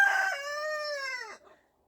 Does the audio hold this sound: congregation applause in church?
no